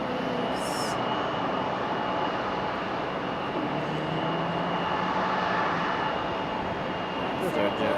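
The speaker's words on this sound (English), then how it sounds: "There's our JetBlue making its way to the alleyway." A JetBlue airliner taxis toward the alleyway at Raleigh-Durham International Airport, its engines giving a steady, even roar that holds for the whole stretch, with a faint tonal whine on top and brief distant noises near the start and end.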